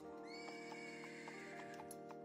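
A horse neighs and whinnies in a visual novel video game, a drawn-out tonal call with several short sharp accents, heard clearly on its own without talk over it.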